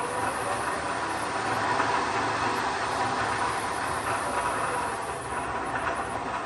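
A metal lathe running after start-up gives a continuous, even mechanical whir and hum with a faint rhythmic rattle, steady in level throughout and free of talk.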